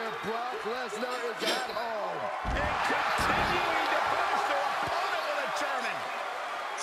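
A loud, roaring arena crowd from the WWE 2K22 wrestling game swells behind a heavy suplex slam impact, with a commentator's voice talking over the noise throughout.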